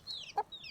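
A chicken brought as an offering to a village goddess gives a few short, soft clucks in a quiet outdoor yard, with a brief louder cluck in the middle.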